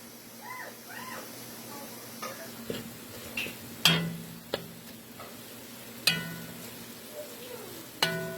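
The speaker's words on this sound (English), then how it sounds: "And basically we let it fry up." Salted dried mango frying for mango kuchila, a soft steady sizzle with scattered sharp ticks and pops from stirring or utensil taps, close and fairly quiet, no talking.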